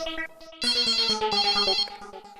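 A telephone ringtone plays a bright electronic melody of quick repeated tones, close and clear, ringing for a couple of seconds before the call is answered, with no talk.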